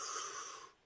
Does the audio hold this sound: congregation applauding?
no